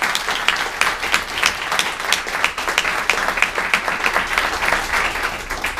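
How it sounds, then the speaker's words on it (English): A conference audience applauds at the end of a technical talk, a lively burst of many hands with distinct sharp claps standing out from the steady roar, sustained and fairly close. "just want to give a great round of applause to you."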